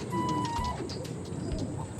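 A racing pigeon coos softly nearby in a loft against a steady background hum, short and low-pitched.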